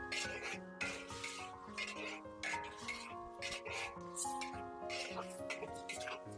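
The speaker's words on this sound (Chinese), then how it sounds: "再把蒜苗加进来，给它翻炒均匀。" Pork and garlic sprouts stir-fried in a wok, with clattering spatula strokes and a light sizzle repeating in quick bursts, close and fairly clear.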